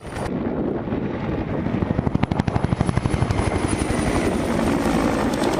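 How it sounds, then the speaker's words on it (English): A Huey helicopter flies steadily and fairly close, its rotor beating in a rapid, rhythmic thump that strengthens midway, with wind buffeting the microphone and no voices. "The Huey travels 38 nautical miles to the range and locates Holthus and Mach at 12:05"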